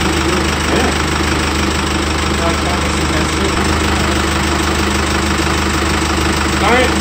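A Jeep Wrangler JK CRD diesel engine runs on an engine stand after a swap, a loud, steady knocking idle with constant vibration close by.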